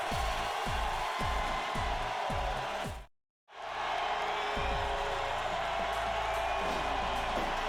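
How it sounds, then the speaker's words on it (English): Wrestling crowd cheering at a live event, a loud continuous roar of many voices that holds steady, drops out briefly for a moment midway, then resumes at full strength. "And finally, you hear the crowd, everybody on their feet from here to Pine Bluff, Arkansas."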